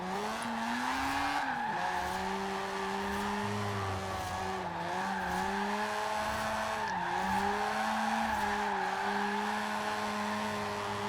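A Mazda Cosmo rotary in Forza Horizon 4 drifts with a steady, droning engine note, loud and close, that wavers and dips as the car struggles to pull forward, with tire squeal running through it.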